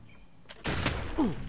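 Musket volley in the Expeditions Conquistador video game, a sudden crackling burst of several overlapping shots after a quiet lead-in, followed by a rumbling tail and a short sliding sound effect.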